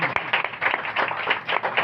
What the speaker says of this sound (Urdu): تو آئیے آپ کو کیسی برکت ملی، زوردار تالیوں کے ساتھ آپ بتا سکتے